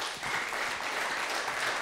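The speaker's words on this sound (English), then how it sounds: "Clap your hands if you're learning something." Audience members clap their hands together at a motivational seminar, a dense, continuous burst of applause that swells after a brief quieter start and holds steady.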